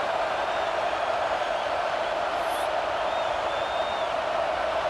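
A steady roar from a packed stadium crowd in College Football 26 runs continuously at moderate level, with faint whistles over the dense wash of noise.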